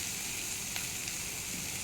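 Spices for chana masala sizzling in a pan, a continuous hissing fry with a couple of faint stirring clicks, close and steady with no talk.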